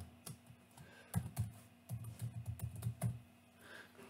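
Keys clatter on a computer keyboard as a password is entered, a close run of quick uneven taps with brief pauses between bursts, heard alone without any voices.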